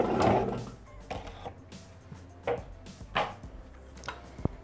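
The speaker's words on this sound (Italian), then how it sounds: "E la facciamo tritare per 10 secondi a velocità 5." A Thermomix TM6 chops pumpkin in its mixing bowl, giving a few short, chunky whirring bursts with quieter gaps between them. The bursts come close and fairly loud, with no voice over them.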